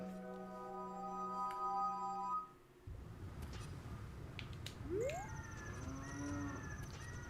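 Cow lowing in the video game Zelda: Ocarina of Time, a long moo sweeping upward in pitch near the middle, set against steady game music and ambient tones, with a player's voice talking.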